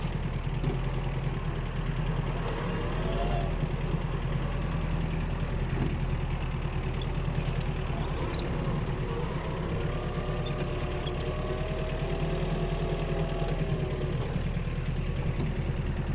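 Mitsubishi MT-265 Japanese four-cylinder mini tractor engine running steadily while the tractor turns, a constant low rumbling drone close by with faint mechanical whine rising and falling, no talk.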